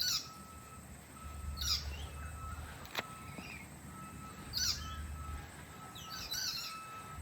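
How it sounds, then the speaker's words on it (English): Unidentified wild birds give strange, harsh squawking calls in bursts, moderately distant, with a broad outdoor hiss between calls and no talk. "It's a strange bird call. I don't think it's a king parrot."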